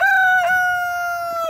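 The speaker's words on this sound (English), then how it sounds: "so that cockerel is not going to go through Christmas here, but Lucky gets very chatty" A cockerel on a small chicken-keeping homestead crows once, a loud, close, drawn-out cock-a-doodle-doo that holds steady and fades at the end.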